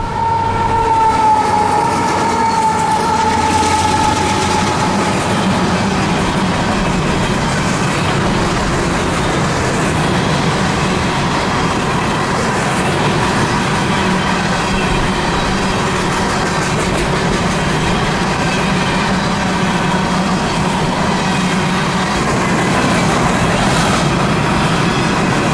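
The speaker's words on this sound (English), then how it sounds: "The green is for empty hopper train T-102, northbound out of Palatka, Florida, returning to Warrior Coal Mine" An empty CSX hopper freight train heads northbound out of Palatka, Florida, rolling past in a steady, continuous rumble with wheel and car noise that stays loud and close for the whole stretch, with no voices.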